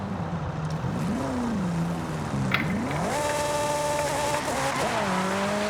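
Race car tires squealing through understeer in Forza Horizon 5, a wavering whine that rises and bends in pitch over a continuous engine roar, with the screech sharpening toward the end; no talking.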